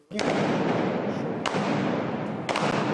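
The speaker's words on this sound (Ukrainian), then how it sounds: "ЗУшка працює" Heavy automatic fire from a ZU-23 anti-aircraft gun roars continuously at close range, a dense rattling burst with sharp cracks standing out at intervals, in the Avdiivka industrial zone.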